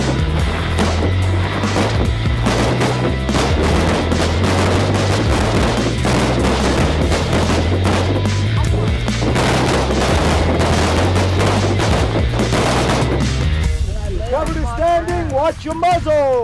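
Repeated gunfire on a shooting range during a timed course of fire, dense overlapping shots from several shooters, loud and continuous with a voice talking over it near the end.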